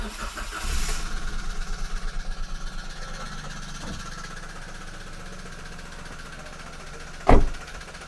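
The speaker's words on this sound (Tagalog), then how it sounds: "I-start ko po ang engine nito at pakinggan nyo po yung sinasabi kong katok." A 1000cc Toyota Wigo engine with an internal knock cranks and starts, then runs at a steady close idle with a rhythmic tapping knock, followed by a single loud thump near the end.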